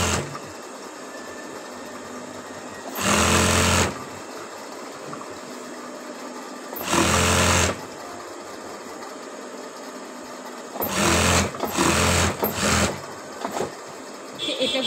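A sewing machine stitches the side seams of a kameez in several short bursts, each a second or so long, with quiet handling and faint background hum between runs.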